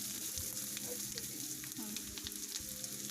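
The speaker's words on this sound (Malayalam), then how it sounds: "ഇളക്കി മിക്സ് ചെയ്യുക." Crushed coriander and cumin being stirred in a pan while making rasam, giving a steady low sizzle and frying crackle with soft scraping, close and continuous, no voices.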